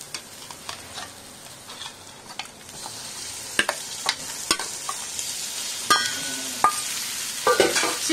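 Chicken pieces tossed into frying chilli powder and salt masala for a simple chicken curry, then stirred, giving a continuous sizzle broken by sharp scraping and clanking utensil strokes that grow busier toward the end, no talking.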